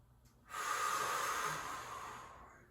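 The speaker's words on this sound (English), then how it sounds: "One more good breath." A single deep breath during a mid-morning workout, a breathy hiss that swells after a quiet start and slowly fades, close and alone.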